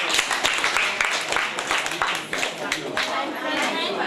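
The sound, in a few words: students clapping for themselves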